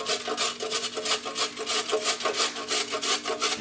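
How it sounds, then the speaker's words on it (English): A carrot being grated by hand, heard up close as a steady run of quick, rhythmic rasping strokes with no talking. "I decided I'm going to grate a carrot into here too."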